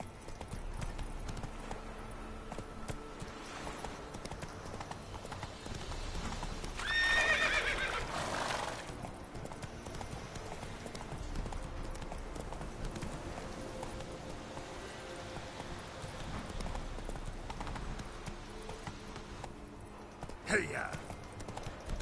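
Roach the horse from Witcher 3 gallops in a steady hoof rhythm under game music and ambience, with a brief neigh near the middle and a sharp accent near the end; speech is present.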